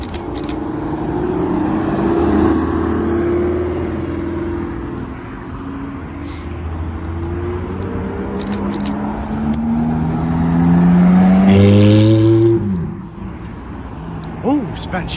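A Speciale supercar rolls into a car meet, its engine note rising and falling as it approaches and revs near the end, with people talking around it.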